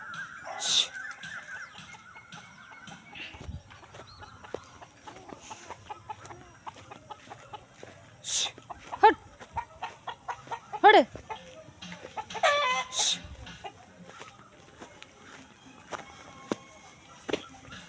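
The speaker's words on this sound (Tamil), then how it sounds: "ரெண்டு ரெண்டு கோழி உள்ளே நிற்கிது பாருங்கள்" Chickens cluck in scattered bursts, near and moderately loud, among rustling and outdoor noise, with brief voices in the background.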